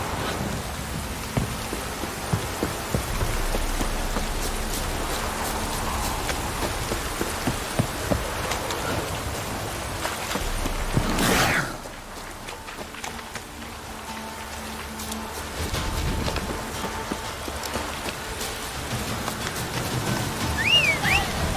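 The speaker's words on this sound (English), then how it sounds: "If it don't stop raining, my arse will roll. This downpour's a bastard," Heavy downpour in The Witcher 3: Wild Hunt, a dense steady hiss of rain on the ground throughout, with a brief louder whoosh near the middle and faint rumbling underneath.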